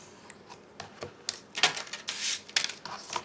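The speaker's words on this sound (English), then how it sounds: "then I'm going to cut it with my X-Acto knife" Paper for a criss-cross pocket card is cut with an X-Acto knife along a ruler, giving a run of short, close, scratchy slicing strokes that grow denser and louder toward the end.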